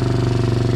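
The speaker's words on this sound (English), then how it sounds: "I love the little exhaust note this thing has. It's got a nice deep tone to it." A 2023 Can-Am Renegade 110 XXC kids' ATV idles with a steady, deep, evenly pulsing exhaust note, close up and continuous throughout.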